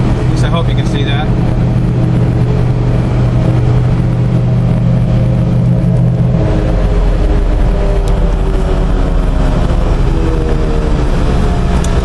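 An LS3 V8 engine in a car on a test drive, a loud continuous drone with rising and shifting engine tones as it pulls through gears, heard up close from inside the vehicle.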